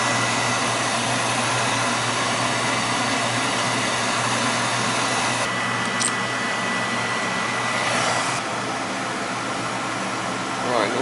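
Oil-fired boiler burner at a fire station roaring steadily with a constant broadband whoosh and low hum, close and continuous, a brief higher hiss midway and faint clanks near the end.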